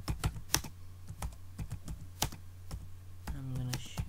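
Keystrokes on a computer keyboard while writing web page code, a series of sharp close clicks in an uneven rhythm with a short burst of talk near the end.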